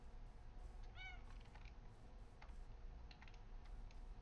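A cat gives one short, faint meow partway through, over steady computer keyboard typing and background hum.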